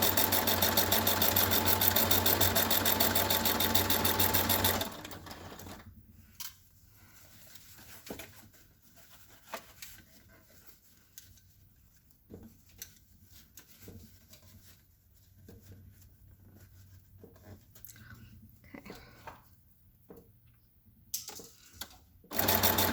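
A sewing machine stitches a chair cushion. A steady loud run of stitching opens, then stops and gives way to quieter intermittent short bursts and handling noises, before the machine starts running again at the very end.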